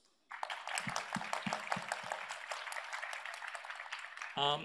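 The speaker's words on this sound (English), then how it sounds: "you deserve a round of applause" Conference audience applauding at a sustainability conference session, a steady round of clapping with several louder low thumps early on, ending in a brief sharp sound.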